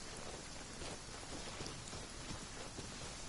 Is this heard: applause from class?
no